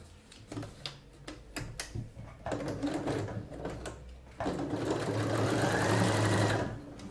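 A sewing machine topstitches the pocket opening of a fabric phone pouch, starting with a few short separate bursts and then settling into a steady, close, continuous whirring run.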